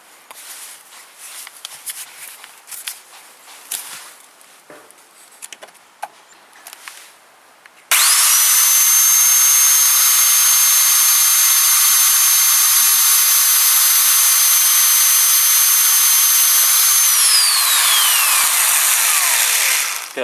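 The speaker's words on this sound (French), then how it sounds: "on va commencer par faire sauter les rivets avec un petit forêt de 3" Small 3 mm bit in a power drill boring out the rivets on a car licence plate: a sudden loud, steady high-pitched whine after some quiet handling noise, holding for about ten seconds before spinning down.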